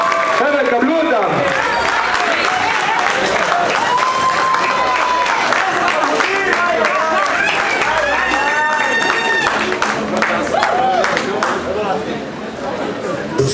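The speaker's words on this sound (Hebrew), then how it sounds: "חבר'ה, אני רוצה לשמוע מחיאות כפיים, לעודד אותם במהלך ההופעה." A club crowd at Havana Club in Israel claps and cheers for a live Cuban band, a loud, dense wash of applause mixed with chatter, whoops and raised voices throughout.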